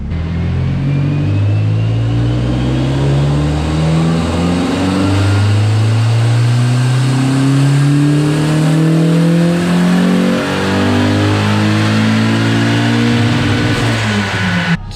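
A turbocharged Mazda Miata running 7 psi of boost revs hard on a dyno, its engine note climbing loud and steady through repeated sweeps, close up with no talking.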